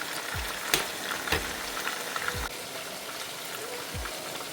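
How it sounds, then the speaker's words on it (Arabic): Onions and mushrooms frying in ghee in a pan for chicken escalopes with mushrooms, a steady close sizzle with a few soft thumps and stirring knocks, no voices. "خليني اكمل القلي برجع لكم"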